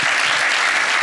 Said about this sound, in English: You can give them some applause